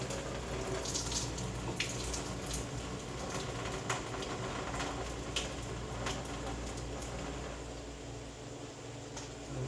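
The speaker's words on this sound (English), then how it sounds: "tilting the pot, letting the water slowly come off my pasta" Pasta water pours and splashes steadily from a tilted pot into a sink, a continuous rushing stream with small irregular spatters.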